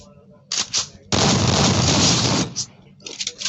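A single loud, sustained blast of shotgun fire in a video game, with shorter bursts and clatter before and after it.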